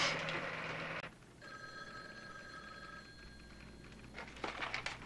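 A telephone rings in a hospital setting, a faint electronic ringing tone repeating for a couple of seconds after a brief rustle, quiet and distant.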